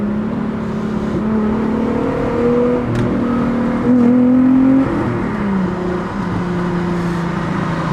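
Volkswagen Golf 3 with its VR6 engine pulling hard while driving, a steady throaty drone rising in pitch through the revs, briefly swelling louder mid-run before settling back, heard from inside the car.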